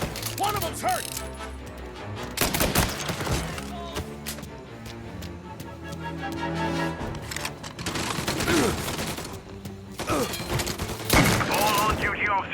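Gunfire in Mafia: Definitive Edition, with bursts of shots and sharp impacts running throughout over game music and mechanical clatter, while voices talk and shout in between.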